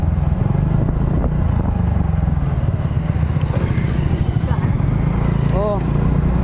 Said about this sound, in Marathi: ती गाडी आली बघ.